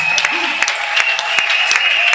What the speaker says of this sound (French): Acclame très très fort que toi-même.